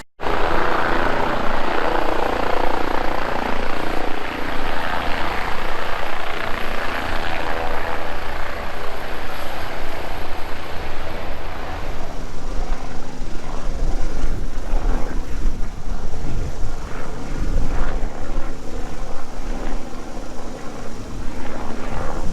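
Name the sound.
air ambulance helicopter at Cadwell Park race track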